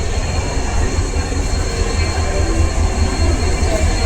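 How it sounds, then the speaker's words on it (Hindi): A WDP 4D diesel locomotive arrives on an Indian railway line, producing a loud, continuous rumble of engine and rolling wheels close by, with faint metallic squeal mixed in. "और ये आ गया हमारा लोकोमोटिव।"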